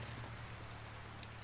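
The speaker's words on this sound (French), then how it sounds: "quand il pleut, hein" Steady rain falls in the medieval survival game Medieval Dynasty, a constant even patter with no voices over it.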